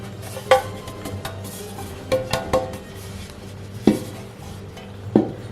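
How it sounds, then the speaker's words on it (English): Sharp knocks and clatters ring out as excess flour is tapped and dusted out of a metal bread pan, a few distinct hits spaced over several seconds against quiet kitchen background. "Now we're gonna dust out any excess flour."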